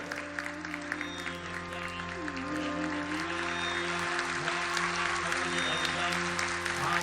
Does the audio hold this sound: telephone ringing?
no